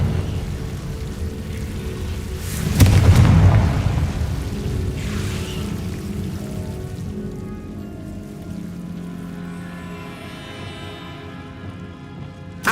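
A Confringo fire spell explodes in Hogwarts Legacy, a loud low burst that rumbles and fades over several seconds into a soft crackling, rain-like wash.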